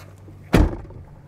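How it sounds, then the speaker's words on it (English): A single solid thud of a Class C motorhome door being shut up close, a short loud impact with a brief low rumble after it and quiet before and after. "You can shut the door."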